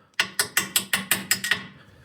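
A rapid impact wrench hammers on a 15 millimeter nut and washer during a Dodge Ram transmission mount replacement, about eight sharp evenly spaced rattling bursts, close and loud, then tapering off.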